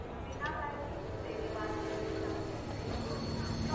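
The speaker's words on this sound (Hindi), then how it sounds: "यही ट्रेन जाती है लखनऊ," A train bound for Lucknow passes nearby with a steady rumble and clatter of wheels on rails throughout, under scattered voices and faint higher squealing tones.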